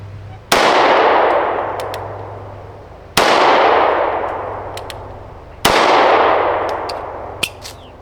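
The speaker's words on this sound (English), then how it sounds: "Let's get these other 3 rounds off." Three sharp, loud handgun shots ring out at a shooting range, spaced a few seconds apart, each with a bright crack followed by a long decaying echo; small metallic clinks sound between the rounds.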